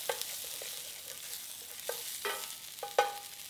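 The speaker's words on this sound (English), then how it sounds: "I'm going to go ahead and add my scallions in." Scallions stirred into a pan of New Orleans-style BBQ shrimp, with soft scraping strokes and a few short clinks over a faint, steady sizzle.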